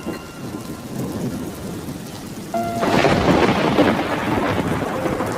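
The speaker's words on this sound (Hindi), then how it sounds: "अरे ये क्या, बारिश शुरू हो गई।" Steady rain falls throughout, with rolling thunder rumbling beneath it; the downpour grows noticeably heavier about halfway through.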